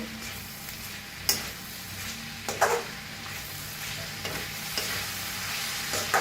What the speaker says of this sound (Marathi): वरनं टाकायची कोथांबीर मिक्स करून घेऊया